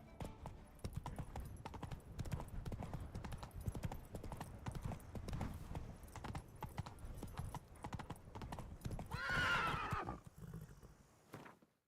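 Roach the horse galloping in The Witcher 3, with rapid rhythmic hoofbeats pounding close and loud throughout, then a sharp whinny near the end as the gallop pulls up and fades out.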